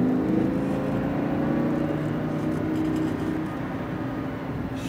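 Lamborghini Huracan engine accelerating on a track at Speed Vegas, a steady sustained drone heard from inside the car with no talking.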